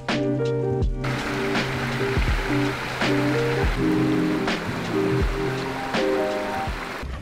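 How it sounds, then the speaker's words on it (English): Heavy rain pours down steadily around a camping truck outside Austin, Texas, a dense, loud wash of drumming water that carries on throughout, with occasional sharper knocks and low thuds underneath. "just pouring down rain"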